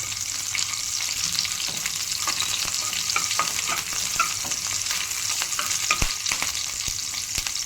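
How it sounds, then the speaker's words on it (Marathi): Curry leaves and green chillies frying in hot oil for a Malvani egg fry gravy, giving a steady, close crackling sizzle with occasional sharp pops and light stirring clicks throughout, no voices. "त्याच्यात आपण कढीपत्ता आणि मिरच्या टाकायचे थोडं फ्राय करून घ्यायचं"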